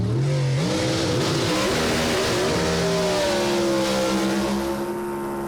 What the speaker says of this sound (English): Find out we will as they both do high revving burnouts.